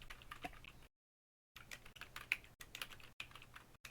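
Short bursts of typing on a computer keyboard, quick close key clicks in a few clusters separated by brief silent pauses.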